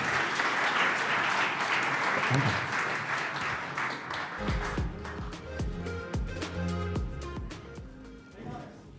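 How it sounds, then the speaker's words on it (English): An audience applauds a presenting team: dense, loud clapping for about four seconds, then fading as tonal music rises underneath, with a brief spoken thanks. "Big applause for Team RE2"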